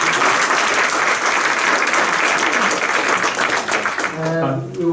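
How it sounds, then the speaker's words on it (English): Audience applause at a tech conference after a panel on smartphone-connected devices, a loud sustained crowd clapping that fades near the end as a voice begins speaking. "Another round of applause."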